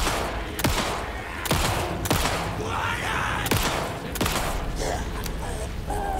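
Loud gunshots in the survival horror game Alan Wake 2, about half a dozen sharp separate cracks spaced irregularly a second or so apart, over a dark ambient bed with faint voice.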